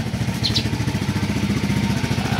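A motorcycle engine runs steadily at idle close by, a low, even rhythmic putter with a brief higher chirp early on and no talking over it.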